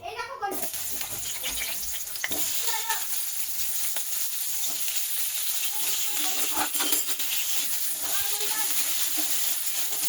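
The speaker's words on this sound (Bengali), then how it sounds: "আরও একটু তেল দিয়ে দেবো, দিয়ে আলুগুলো দিয়ে দেবো।" Potatoes fry in oil in a home kitchen pan, a steady hissing sizzle with occasional stirring scrapes, heard close and continuous.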